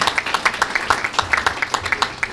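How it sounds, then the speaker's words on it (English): An audience applauds for Senator Aaron Ford at an event, sparse individual claps in a quick, uneven rhythm from a modest crowd, moderately loud and near. "If you could all give him a round of applause."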